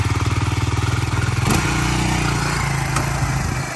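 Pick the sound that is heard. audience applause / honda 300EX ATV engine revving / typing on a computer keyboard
honda 300EX ATV engine revving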